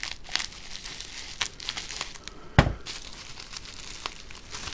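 Bubble wrap packing around a 3-axis gimbal controller is cut and pulled open, giving close crinkling and crackling plastic rustles. One sharper, louder crunch comes near the middle.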